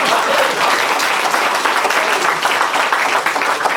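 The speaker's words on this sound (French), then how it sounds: "Si vous l'applaudissez encore une fois, je suis sûr qu'il va dire un mot." An audience claps continuously in a dense, close burst of applause that stays loud and steady from start to finish, with no voices over it.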